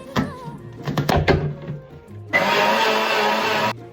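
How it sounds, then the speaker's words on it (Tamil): A kitchen blender whirs into a drink after a few clunks and taps as it is set up, then runs loud and steady for about a second and a half before stopping. It is close by, and no one talks. "பிளெண்ட் பண்ணிக்கலாம்."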